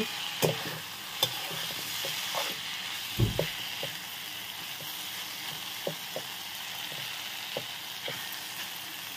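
Ridge gourd sizzles and fries steadily in hot oil, a continuous crackle broken by scattered louder pops and spits, with no voices over it.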